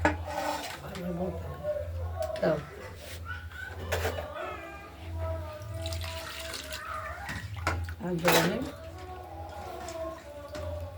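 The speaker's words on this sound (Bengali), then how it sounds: "ভালো করে ধুয়ে নিচ্ছি" Tap water runs steadily over cut pieces of boal fish as they are washed in a kitchen sink, with occasional splashes and clinks and faint voices in the background.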